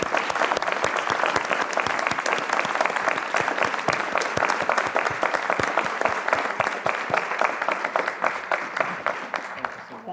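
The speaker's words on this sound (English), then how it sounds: "please join me once more in just a rousing round of applause for our alumni recipients" An audience at a university sustainability awards ceremony applauds the alumni award recipients. The clapping is dense and sustained and runs for about ten seconds, then thins slightly at the end.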